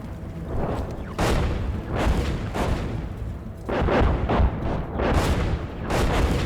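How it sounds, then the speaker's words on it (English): Artillery shells bursting close by in a tank-combat video game with M60A1 tanks and M113 APCs: heavy, overlapping booms roll one into another, loud and continuous, with no talking over them. "Oh, artillery is hitting us. Ooh, that's really close."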